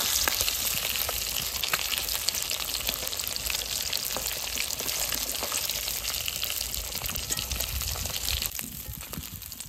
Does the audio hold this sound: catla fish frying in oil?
yes